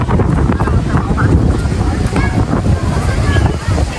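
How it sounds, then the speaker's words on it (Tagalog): Strong wind buffets the microphone in loud, continuous gusts, with surf or water churning underneath and voices faintly mixed in. "Lakas ng hangin."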